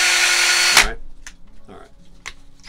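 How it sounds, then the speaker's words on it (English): A power drill bores through the thin metal and plastic of an RV door, whining steadily and loud before cutting off abruptly, leaving faint clicks and small handling noises. "I'm intentionally drilling kind of slowly"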